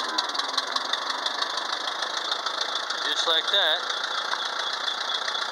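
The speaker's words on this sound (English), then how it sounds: "Mr. Ford's tractor comes back to life." A 1948 Ford tractor engine runs at a steady idle close by, a continuous rough mechanical drone throughout, with someone briefly speaking over it.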